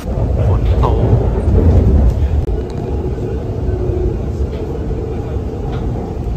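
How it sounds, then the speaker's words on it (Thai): Steady rain falls loudly and continuously near a train in Taipei, a dense hiss with low rumbling underneath throughout. "ฝนตก"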